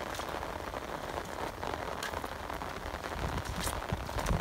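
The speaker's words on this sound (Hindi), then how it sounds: "बूंदाबांदी हो रही है हल्की हल्की" Light rainy-season drizzle at a brick-making site, a soft steady patter of drops on surfaces, faint and continuous with occasional sharper ticks and no talking.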